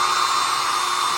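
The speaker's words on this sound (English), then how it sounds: "then you just wanna line it up with those holes and then start drilling" A power drill fitted with a 5/16 bit bores holes for mounting a swinging screen door, giving a steady, loud, high-pitched whine that runs unbroken and close.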